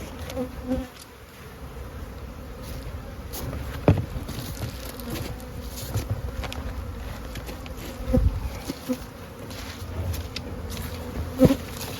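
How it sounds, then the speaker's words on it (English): Bees buzz busily around a hive on a warm day, a close, dense drone with individual insects darting past the listener, plus a few faint knocks. "Got a few more bees on us this time, aren't we?"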